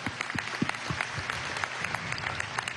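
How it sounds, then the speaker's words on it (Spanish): Applause at a political meeting, a short burst of crowd clapping with some individual claps standing out, with faint voices mixed in. "Gracias, un aplauso."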